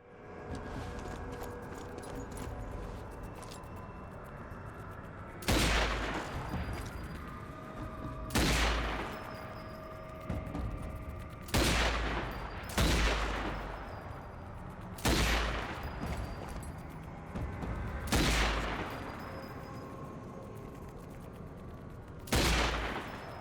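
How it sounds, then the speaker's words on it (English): Gunfire in the Zombie Army 4: Dead War video game, used to shoot out Christmas lights, comes as six loud, sharp single shots spaced a few seconds apart over a low ambient background. "spell the word brains by shooting out the lights"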